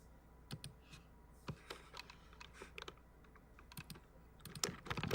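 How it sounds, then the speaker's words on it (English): Keyboard typing with an old-typewriter sound on a live stream: irregular bursts of sharp, clacky keystrokes, quiet and close, with scattered single taps and denser runs toward the end. "Why it sound like somebody typing on an old school typewriter though?"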